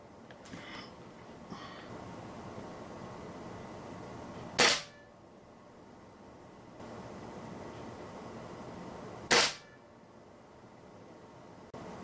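Two sharp, loud shots from a Umarex Fuel .22 gas spring air rifle firing RWS Barracuda Match pellets, spaced about five seconds apart, each a crisp crack over a steady outdoor background hiss.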